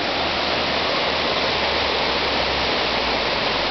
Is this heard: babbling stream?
yes